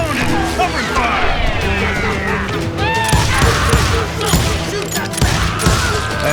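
Gunfire in the Western shooter Call of Juarez: Gunslinger, dense overlapping shots and impacts ringing out over a loud continuous game soundscape with music and shouted voices, busy and close throughout.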